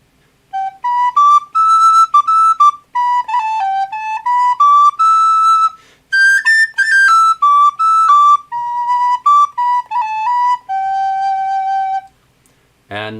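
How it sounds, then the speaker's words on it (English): Clear, pure notes from a wooden recorder play a lively melody in two phrases with a short pause between, close and loud, ending with a brief low thump. "here is a wooden recorder, and I think it sounds, it has a little more of an earthy sound"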